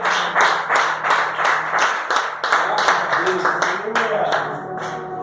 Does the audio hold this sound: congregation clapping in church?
yes